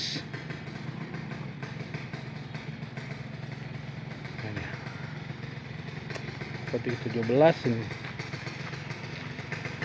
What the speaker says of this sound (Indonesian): Ada suara motor situ.